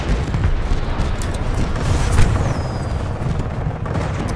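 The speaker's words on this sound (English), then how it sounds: "I get sniped by a cluster missile" Heavy rumbling blasts and booming explosions from a cluster missile in the shooter game Titanfall 2 roll on continuously, loud and dense, with a sharper burst near the middle and a faint whistling streak afterward.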